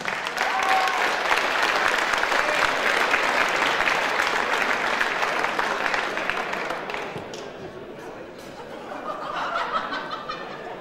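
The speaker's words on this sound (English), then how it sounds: "I ask you please to keep that round of applause going for our gallant runner-up of bout number one" Sustained, loud crowd applause fills a semi-pro MMA fight event after a submission win, with scattered laughter and voices mixed in; the clapping thins and softens toward the end, then swells slightly again.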